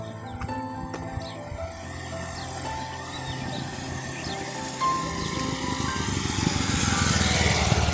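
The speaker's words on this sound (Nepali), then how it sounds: "यहाँ बाइक सिक्न लाग्नु भएको रहेछ दिदी" A motorcycle ridden by a woman learning to ride, outdoors on a hillside near Chobhar, Nepal, gives a steady engine drone that grows louder toward the end.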